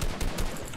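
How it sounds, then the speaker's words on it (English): Rapid gunfire in a shooter video game, a quick string of loud cracking shots over a busy, noisy rumble for under a second. "I'm gonna shoot him down."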